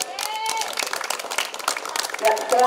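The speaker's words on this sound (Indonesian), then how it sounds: "Tepuk tangan dulu." Students and staff clap at a Monday flag ceremony at a junior high school, the applause building into a dense crackle of many hands, with voices mixing in over it.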